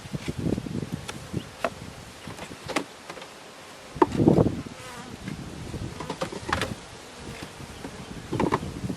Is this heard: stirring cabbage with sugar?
no